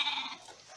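A goat in a village farm shed gives a short, nasal bleat that fades quickly, close and clear with no talking.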